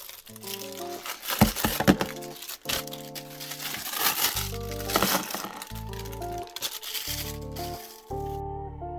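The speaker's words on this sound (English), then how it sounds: "So let's get this thing out of the packaging." Plastic packaging of a Marvel Legends street thug action figure crackles and crinkles close up as it is opened, in bursts of crisp rattling with brief pauses, over soft background music.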